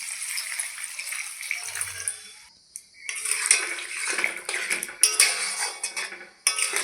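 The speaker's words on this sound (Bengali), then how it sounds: "এখন আমি জল দিয়ে দিচ্ছি।" Water poured into a pot of radish and potato curry seasoned with mustard powder, cashew and white sesame paste: splashy pouring bursts, a short pause, then more pouring with utensil clinks against the pot.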